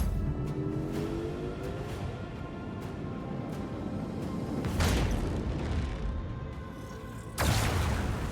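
Macro cannons firing in the Warhammer 40,000 video game Rogue Trader, heard as heavy, deep booms over a constant low space-battle rumble, with two strong impacts standing out near the middle and end.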